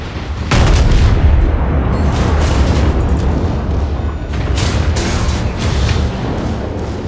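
Naval secondary guns in a battleship video game firing high-explosive shells, a dense barrage of loud booming blasts rolling continuously with overlapping rumbles and cracks, no voices.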